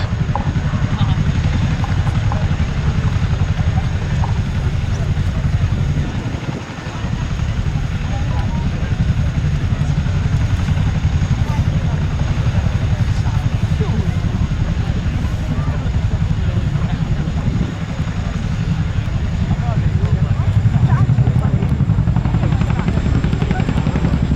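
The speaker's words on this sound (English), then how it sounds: "As the aircraft gently corkscrew climbs into the hover, the crew will now open the ramp" An RAF Boeing Chinook HC.6 tandem-rotor helicopter climbing into a hover at an air show, a loud, steady, close rotor roar with heavy low thudding that holds without a break for the whole stretch.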